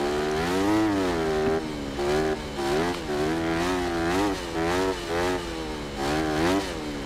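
Motorcycle engine throttling on a track in Monster Energy Supercross 6, revving up and backing off in repeated surges while cornering, close and steady.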